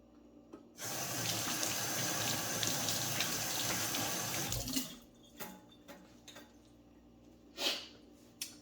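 Tap water gushes steadily into a sink for about four seconds, refreshing the soaking water for thawing chicken quarters, then shuts off, leaving a few faint drips and clinks.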